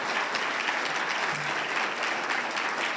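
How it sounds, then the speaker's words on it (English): Audience applauding scholarship winners at an educational and leadership scholarship ceremony, a steady, even wash of clapping throughout the short stretch. "Could we have one more round of applause for all of our scholarship winners?"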